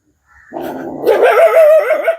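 A dog, kept where puppies were recently born, barks and yips in a rising, whining series, close and loud with no talk over it.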